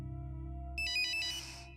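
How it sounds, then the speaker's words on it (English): A mobile phone charging on a kitchen counter plays a short bright electronic ringtone burst of rapid repeated notes over a low steady hum, heard alone without talk. "you hear your phone ring. Your phone that's placed on the kitchen counter"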